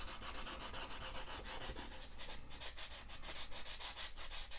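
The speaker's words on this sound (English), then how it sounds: "I'm going to scuff this bone because it feels like there might be some sort of gloss finish on there" A bone knife handle with a glossy finish is lightly scuffed by hand before dyeing, giving a steady, soft abrasive rubbing in repeated quick strokes, close and quiet, with no talking.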